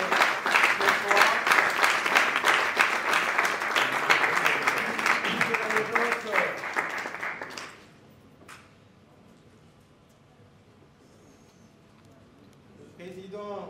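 An audience at an award ceremony applauds loudly for an honoree, dense clapping for about seven seconds before it stops abruptly and quieter room sound remains, with a voice near the end.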